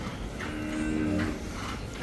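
A dairy cow on a farm gives a single drawn-out low moo, close and clear, rising and falling over about a second amid steady background hum.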